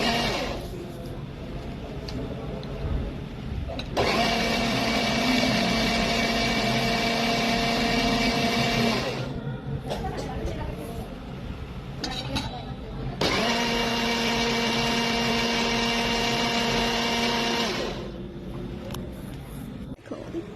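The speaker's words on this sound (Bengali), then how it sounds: "দেখো কত সুন্দর করে ব্লেন্ড হয়েছে।" An electric blender whirs through tomatoes for tomato sauce in two steady, loud bursts of several seconds each, with a short quieter gap between them.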